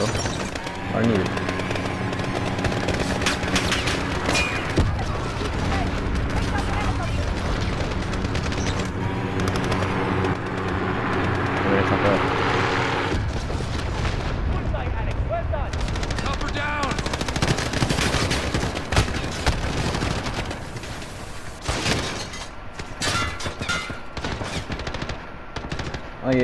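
Air support planes strafing in Call of Duty Modern Warfare, with dense bursts of automatic gunfire and explosions running almost the whole time under game music and radio chatter.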